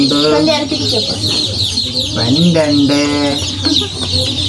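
Young chicks cheep in repeated, rising high-pitched peeps close by, with a voice speaking over the chirping throughout; the brood of about twenty includes brown, white and black chicks newly brought home.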